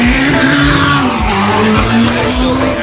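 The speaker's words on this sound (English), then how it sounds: "this is the only Nissan GTR GT1 that is still running." Nissan GTR GT1 race car driving at a CarFest North event, a loud, close engine roar with pitch shifts through gears and tire squeal, while speech is faintly audible underneath.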